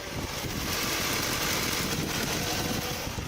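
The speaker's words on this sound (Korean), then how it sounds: "그랜저 HG 하이브리드 차량 엔진 사운드까지 담아드리기 위해서 본넷까지 개방해 봤고요" A steady, close idle from a Hyundai Grandeur HG 2.4 hybrid engine with the hood open hums without a break, a smooth mechanical drone with a fine high-pitched whir running through it.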